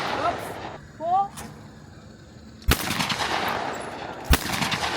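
Shotgun blasts at clay targets on an outdoor shooting range, two sharp, loud reports a couple of seconds apart, with a faint voice calling briefly before them.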